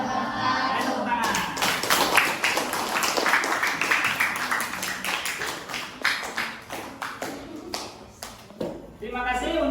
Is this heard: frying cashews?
no